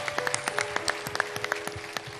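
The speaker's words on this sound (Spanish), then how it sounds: "con un fuerte aplauso le demos la bienvenida a la familia" Church congregation at a Forest City Adventist service applauding to welcome a new member, a sparse patter of distinct individual claps heard clearly at moderate volume with no talk.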